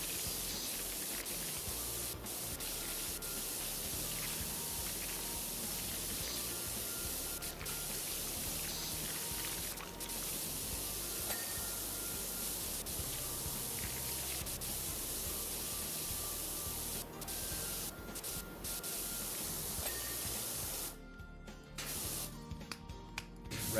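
A pressure washer fitted with a red nozzle blasts grime off a wall in a steady, loud, continuous hiss and spray, with brief breaks and sputters near the end.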